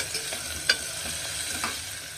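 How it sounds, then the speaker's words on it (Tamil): Onions and curry leaves frying in hot oil in a home kitchen, giving a soft steady sizzle with a few light stirring clicks and scrapes, close and fairly quiet with no talking. "இப்ப எண்ணெயில வெங்காயம் சேர்த்துக்கலாம். கருவாப்புல சேர்த்துக்கலாம். இது கொஞ்சம் நேரம் வதங்கட்டும்."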